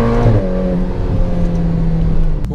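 A Ferrari F8 Tributo engine revs loud and close, its pitch dropping from a high whine into a steady rumbling idle, with a faint odd rattle from the rear.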